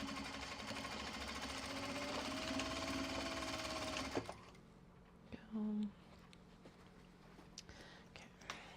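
A sewing machine runs steadily for about four seconds, stitching the side seams of small mini traveller slings, then stops. A brief short burst of stitching follows, alongside quiet handling noises.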